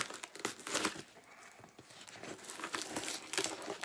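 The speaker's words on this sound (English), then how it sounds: "Of course, Laurie, pick up the dullest scissors you have in here to open this." Dull scissors cutting open a cardboard box delivered as mail, with crinkling packing material and irregular bursts of snipping, tearing and rustling close by, no talk.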